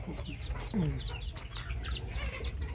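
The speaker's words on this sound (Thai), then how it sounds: "มีแต่ไก่ดำเลย" Black chickens cluck around a rural home yard, a flock giving repeated soft clucks and short calls at close range over a steady low background hum.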